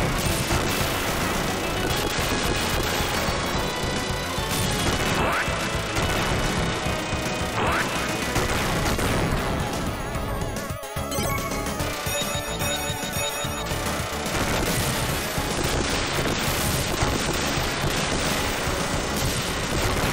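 Rapid gunfire and crashing explosions from the Sega action game Gunstar Heroes, on the Sunset Highway stage, forming a loud, dense, nonstop barrage layered with game music throughout.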